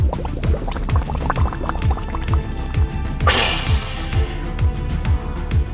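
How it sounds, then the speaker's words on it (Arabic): Wet, squishy soap bubbles form and pop in a steady rhythm of soft liquid blips, with a brief fizzing surge partway through. "فقاعات الصابون الكثيرة."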